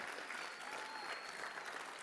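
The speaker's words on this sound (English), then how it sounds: "Another round of applause." Brief burst of audience applause at a school violence prevention assembly, steady dense clapping from a crowd with faint voices mixed in.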